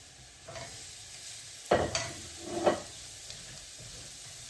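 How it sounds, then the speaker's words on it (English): Vegetables for a Bolognese sauce fry softly in a pan, giving a quiet sizzle broken by a few scraping stirs. "I'm just going to fry these vegetables until they get soft"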